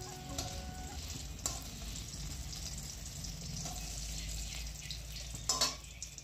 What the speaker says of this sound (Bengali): ওইদিকে পটল ভাজা হচ্ছে